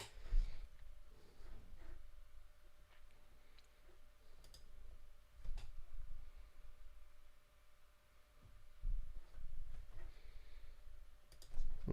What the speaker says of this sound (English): What's going on with my keyboard?